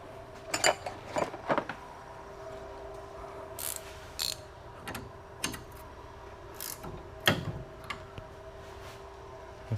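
Small clicks, taps and light metallic ticks of nuts being worked off a drop spindle, scattered irregular sounds close by over a faint steady hum.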